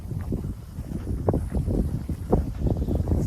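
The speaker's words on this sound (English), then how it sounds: "Still breezy up here." Breezy wind on a hilltop buffets the microphone in loud, uneven low gusts that rumble continuously throughout, with no talk.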